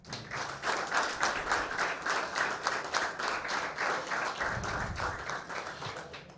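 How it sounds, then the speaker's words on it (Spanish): Sustained applause from an audience at a ceremony marking Chile's first National Day of the Football Commentator in 2024, a dense, steady patter of many hands clapping that continues for several seconds. "Le mandamos un fuerte aplauso a Vladimiro para que nos escuche desde casa."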